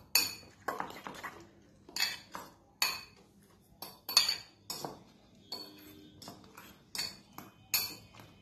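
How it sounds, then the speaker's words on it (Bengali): Eggs mixed with carrot, capsicum and onion are beaten in a bowl for an omelette, giving a series of sharp metallic clinks and taps at an irregular beat, close by and fairly loud with no talking. "এবার সবগুলো ভালো করে ফেটিয়ে নেব"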